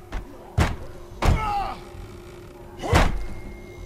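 A door slams in the video game The Walking Dead, three heavy thuds with a rattling creak between the first hits, loud and close.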